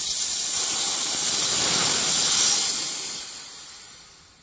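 A pressurized German beer keg vents gas through its spear valve in a loud, continuous close hiss that holds steady for a few seconds and then gradually fades away, with no talking.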